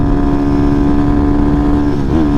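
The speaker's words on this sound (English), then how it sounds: "I'm revving it hard right now" A Grom clone 212cc Daytona motorcycle held in fifth gear revs hard with a loud, steady, buzzing engine drone and strong wind rush, pitch wavering slightly near the end.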